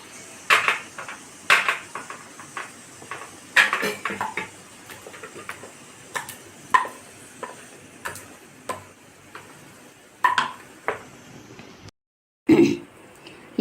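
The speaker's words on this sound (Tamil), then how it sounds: "இப்போ இதை வந்து நம்ம அப்படியே இதில் இந்த ட்ரேயில் வந்து மாற்றிடலாம்." Thick cooked mango mixture scraped from a pan into a greased tray, heard as a series of sharp metallic clicks and scrapes of a utensil on metal at an irregular, unhurried pace, fairly close and with no voices.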